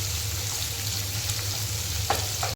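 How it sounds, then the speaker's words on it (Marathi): Finely chopped onion sautéing in a pan over high heat, a steady bright sizzle throughout, with a couple of brief stirring clinks near the end. "मोठ्या गॅसवरती त्याला परतून घ्यायची बारीक कापलेला आहे कांदा"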